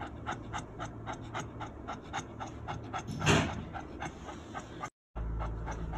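A dog with pulmonary edema pants rapidly and rhythmically, close and fairly clear, with a brief louder breath midway and a short dropout near the end.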